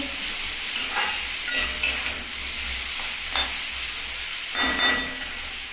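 Potatoes and onions frying together in a pan, a constant sizzle with several stirring scrapes and knocks spread through; nobody talks.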